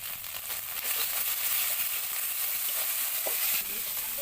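Onion paste sizzling and frying in hot oil with garlic and ginger paste, a steady close hiss with soft crackling throughout and no talk.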